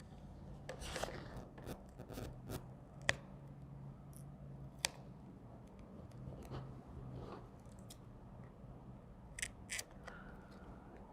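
Rubber trim on an Aston Martin DB9 door mirror being cut, heard as a few quiet, sharp snipping clicks spaced irregularly over a soft, steady background hum.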